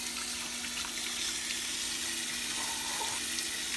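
Water runs steadily from a tap into a sink as hands are rinsed, a soft continuous splashing hiss heard alone and fairly close.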